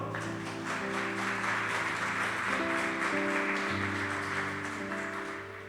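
Congregational applause during an Easter Sunday healing and miracles church service, a steady wash of clapping with sustained organ or keyboard chords ringing underneath throughout.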